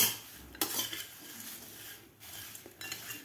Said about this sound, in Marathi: पिठी साखर घातल्यानंतर व्यवस्थित मिक्स करून घेऊया